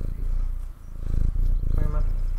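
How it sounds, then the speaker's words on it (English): A cat purrs right up against a microphone, giving a low, steady rumbling hum that runs under a voice, with a few louder swells. "Go ahead and purr into the mic there, buddy."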